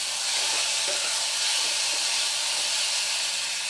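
Ghugni pea curry masala with a little tomato ketchup sautéing in a pan, giving a steady, loud broadband sizzle and hiss that runs continuously with no pauses.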